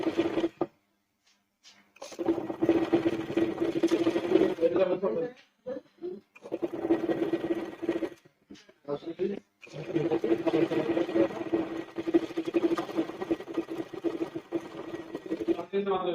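Sewing machine stitching the sleeve of a frock, running in several bursts with short pauses between, moderately close and fairly quiet.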